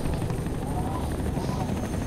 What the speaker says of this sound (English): It's nice to know the military grade spec helicopters would still operate at minus 50 degrees Celsius.